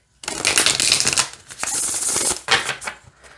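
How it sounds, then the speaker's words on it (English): A deck of astrology tarot cards is shuffled close by in quick, papery riffling bursts, loud and alone, with a brief pause near the middle before the cards slide together again. "Okay, so let's see how they shuffle."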